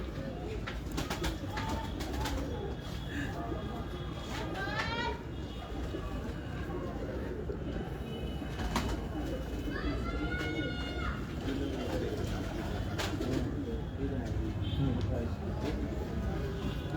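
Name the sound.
pigeons cooing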